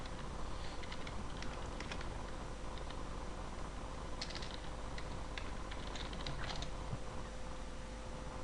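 A computer keyboard is typed on during an online game's combat, giving sparse, light, close clicks and small bursts of keystrokes over a quiet background hum.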